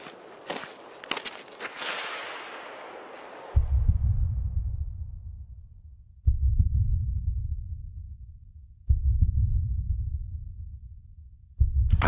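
Slow, heavy low thumps repeat about every two and a half seconds like a heartbeat, each swelling and then fading, heard alone after a few seconds of rustling and clatter.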